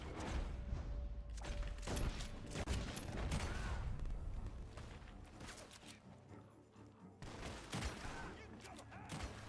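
Rapid bursts of gunfire in the video game Red Dead Redemption 2 crackle over a dense, noisy background, with sharp shots clustered in volleys and brief lulls between them.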